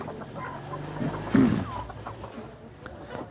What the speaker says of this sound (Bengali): আমার মুরগিগুলো আদার খাওয়ার পরেও দেখতেছেন অ্যাজোলা কী পরিমাণ খাচ্ছে